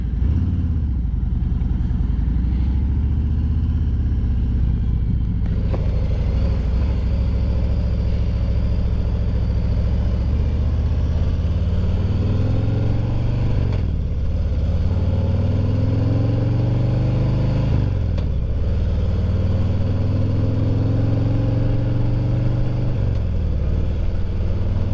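A motorcycle fitted with Vance and Hines Eliminator 400 exhaust, throaty but not very loud, accelerates through several gears, its engine note climbing steadily then dropping at each shift in a repeating rise-and-fall pattern, close and continuous with no talk.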